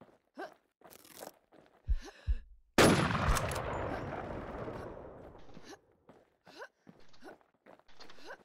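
Gunfire in the video game Infestation, one loud close blast with a long crackling decay, surrounded by scattered short clicks and footstep-like taps, with no talking.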